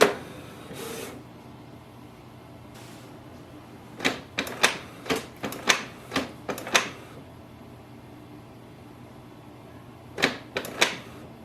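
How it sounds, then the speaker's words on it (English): A Canon Pixma TS3750i printer runs its print head cleaning cycle, giving a quiet stretch, then a series of sharp mechanical clicks and clunks in quick clusters, with a final few clacks near the end. "we are simply going to do the cleaning to unclog the print head and click yes."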